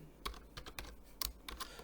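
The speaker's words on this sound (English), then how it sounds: "Just for demo sake, I am just typing." Someone types a short burst on a computer keyboard, with a few irregular clusters of close, quiet key clicks and brief pauses between them.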